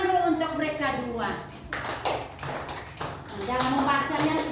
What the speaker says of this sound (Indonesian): Oke, tepuk tangan dulu untuk mereka dua.